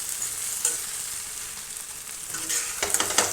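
Dried fish (karuvadu) frying in a pan for a gravy, a steady soft sizzle with a few clinks of stirring toward the end, no talking.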